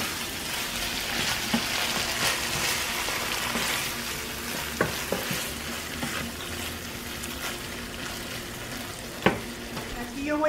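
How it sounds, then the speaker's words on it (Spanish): Chile sauce sizzles and fries in a pan, a dense crackling hiss continuing throughout at close range, with a few sharp clinks of stirring and no talking. "Ya le voy a poner la salsita de chile"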